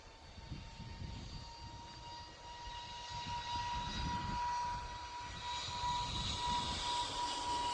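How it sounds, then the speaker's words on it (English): An EasyJet A320neo departing Manchester Airport for Amsterdam gives a continuous distant jet roar with a thin steady whine, gradually building louder across the take-off, no voices present. "An EasyJet. A320neo off to Amsterdam."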